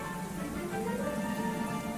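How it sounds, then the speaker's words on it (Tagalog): Heavy rain falls in a steady, dense wash, even and continuous throughout the short stretch with no talk. "Isang malakas na ulan."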